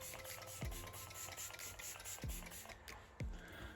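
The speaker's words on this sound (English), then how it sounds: "Shocker L'Oreal setting spray." A L'Oreal setting spray bottle is pumped three times in close succession, each a brief airy hiss, over a constant faint background hum.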